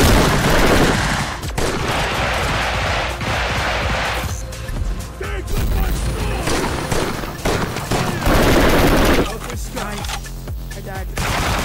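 Heavy gunfire in a VR shooter game, loud continuous volleys and bursts with a few gaps over nearly twelve seconds, close and dense, with talk at times.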